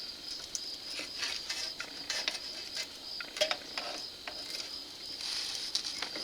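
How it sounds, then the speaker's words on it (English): The rear brake caliper cylinder on a Mercedes Sprinter 2500 is pushed back with a tool behind the pad, giving quiet, close, irregular metallic clicks and creaks over a faint steady hiss. "I'm going to get up in behind the pad there, and I'm just going to compress the cylinder"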